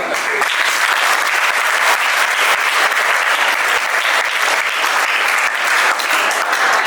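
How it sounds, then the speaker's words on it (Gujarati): A school audience claps together, a dense, continuous burst of applause that stays loud and steady throughout. "તાળી પાડો ના"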